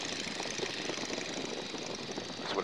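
A light aircraft's engine runs steadily just above the stall during landing, a continuous droning hum heard from inside the cockpit with no talk.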